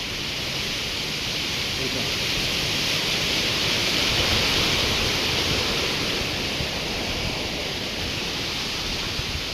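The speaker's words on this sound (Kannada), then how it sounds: "ಈಗ ನೀರು ಹೋಯ್ತಿದ್ದ ನೋಡು" Water rushing steadily through a damaged irrigation pipeline on a banana farm, a dense, continuous hiss and gush heard close up and evenly loud throughout.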